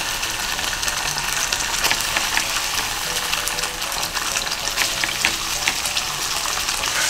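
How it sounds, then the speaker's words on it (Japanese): Kagome ketchup, three tablespoons, frying in a tablespoon of oil in a frying pan just used for fried eggs, a steady dense sizzle with faint bubbling that holds evenly at close range throughout, with no talking. "なんでこれをこのままジュクジュクジュクジュク炒めていくと"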